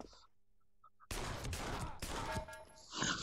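Rapid Desert Eagle pistol shots in Pavlov VR, a burst of loud, close, sharp bangs with echoing tails after a quiet moment.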